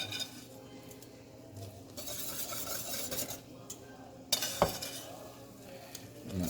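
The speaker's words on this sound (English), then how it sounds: "Whisk it in there real good." Wire whisk clinking and scraping around a pot as roux is worked into thickening turkey gravy, a steady close stirring with a few sharper metallic knocks near the end.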